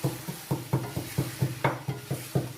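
Coarsely crushed mustard seeds hit hot oil in a karahi pan for a quail dish, heard close up as a quick, regular series of about ten sharp scraping clacks from a spoon, with light sizzle between them.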